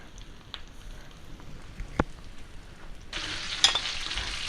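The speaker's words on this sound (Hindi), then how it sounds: "ये भी साथ ही फ्राई हो जाएंगे।" Raw mince kebabs fry in oil with a soft, steady sizzle that swells louder toward the end, heard close with a few light clicks and bumps.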